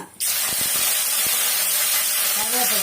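Fennel seeds tossed into hot oil for a mutton gravy, giving a loud, steady close hiss and sizzle that starts suddenly and is broken by a few sharp pops and crackles.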